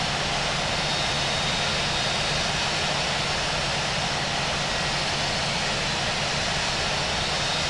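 Steady, continuous jet engine roar of a Boeing 787-9 on takeoff in a flight simulator game, a dense broadband rumble holding at constant level throughout with no talk.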